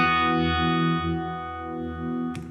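Electric guitar sustaining rich harmonic notes through a Univibe pedal with a wavering, throbbing modulation, played alone and fairly loud, with a brief pick scrape near the end.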